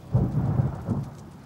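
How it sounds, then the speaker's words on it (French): Heavy rain pours down while a deep rumble of thunder rolls underneath, loud and close, with no voices over this brief stretch of storm. "On peut toujours essayer de l'ignorer, cette pluie. Elle s'arrêtera peut-être plus vite."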